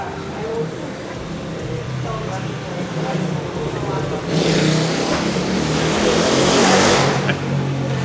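Motorbike engines roar past continuously, swelling louder midway as they pass close by amid busy street noise in Nosara, Costa Rica.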